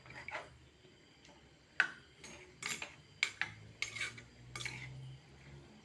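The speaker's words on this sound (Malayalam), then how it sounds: "ഇതൊക്കെ ഒന്ന് ഇളക്കി കൊടുക്കാം." Fish curry stirred in a cooking pot, a series of separate metallic clinks and taps of a spoon against the pot over a quiet background, close but fairly soft.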